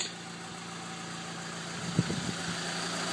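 1987 Honda Civic with a 12-valve four-cylinder D13 engine idling, a steady low exhaust rumble from the muffler heard close up with a brief louder pulse midway, no voices.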